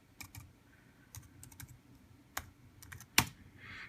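Close, quiet clicking of keys on a computer keyboard at a home gaming and PC desk, irregular bursts of light taps ending in one sharper keystroke.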